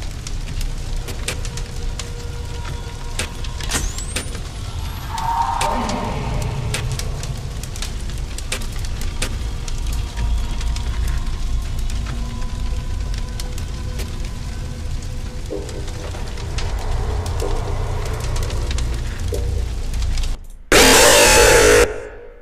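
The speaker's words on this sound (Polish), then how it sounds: "Dźwięk ognia się tak nasilił, że już nie wiedziałem co robić" Fire crackles and hisses in the horror game The Joy of Creation: Story Mode, a dense, continuous sputtering with scattered sharp pops and a burst of louder noise near the end.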